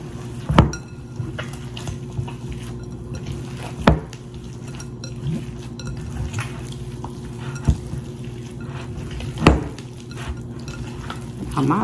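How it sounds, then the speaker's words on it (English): Salisbury steak ingredients being mixed in a bowl, a steady close stirring and squelching with sharp clinks of a utensil against the bowl at irregular intervals, no talk. "And we're gonna mix this bad boy up."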